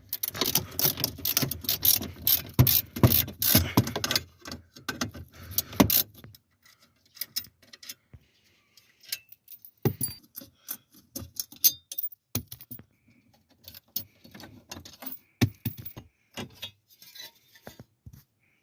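A ratchet works on 10mm bolts holding a Kia steering column cover, with a dense stretch of rapid clicking and metallic rattling up front, then sparser clicks and clinks close by, and no talking.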